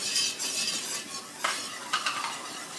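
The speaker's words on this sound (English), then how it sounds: "Filming and whisking at the same time." Whisking cauliflower soup in a pot gives a steady soft swishing and scraping of a whisk against the pot, with a few sharper metallic strokes near the end, close and continuous with no talk.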